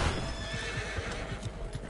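Horses in the Red Dead Redemption 2 video game whinny over a rhythmic clip-clop of hooves, the sound quiet and continuous.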